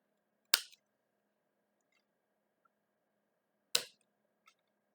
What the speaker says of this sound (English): I'm going to trim these cable tie tails. So let me cut these off.